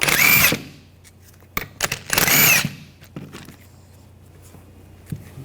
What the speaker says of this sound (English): Use a 14mm socket. Take these bolts out.